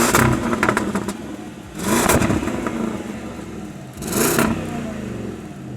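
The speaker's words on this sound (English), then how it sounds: "listen how it sounds from the outside" Land Rover Defender's 5.0 L V8 engine revving, heard from outside, with two strong surges climbing and falling over a steady idle, loud and close.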